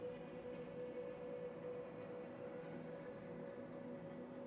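A train running in the video game Factorio produces a steady, faint mechanical drone with a constant tonal hum, unbroken and even throughout.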